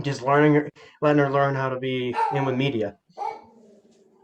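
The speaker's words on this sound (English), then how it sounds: "Sorry, that's my dog." A pet dog at home barks and yips in a few excited bursts, close by, while a person keeps talking over it.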